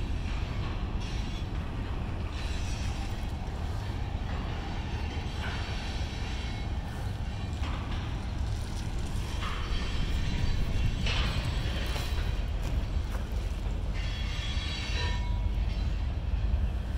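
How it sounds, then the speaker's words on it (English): A westbound light rail train passing by outdoors near a bridge over a lake, a continuous rumble and roar with rising and falling wheel noise and faint squeals, steady and fairly close, no talk. "right now you got the light rail also going by. A westbound light rail."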